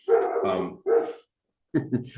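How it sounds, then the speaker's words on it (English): A guard dog barks indoors, giving a quick pair of deep, close barks, then a pause and one more bark. "My guard dog doing his guard dog stuff."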